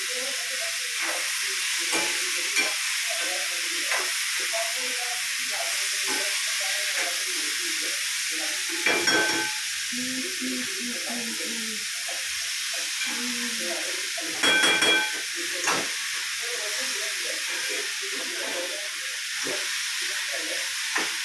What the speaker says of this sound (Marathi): टोमॅटो भाजायला घेतलेला आहे.